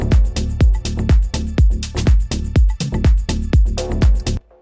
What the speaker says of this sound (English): Now for a shaker, what we're going to do basically is put in 16th notes